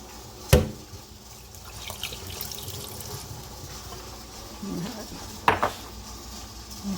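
Excess carrot juice being poured off from a can while making crockpot taco soup, a soft, quiet liquid trickle with two sharp metallic clanks of the can against a pot, one near the start and one near the end.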